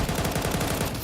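An SMG fires in Counter-Strike during a professional esports match, a rapid, continuous burst of close, loud gunshots in an even rhythm with no pause.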